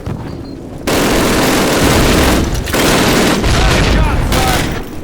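Squad rifle fire from the Call of Duty game's Camp Toccoa training level keeps up as a dense, loud, continuous barrage with brief dips, while shouted voices can be heard under it.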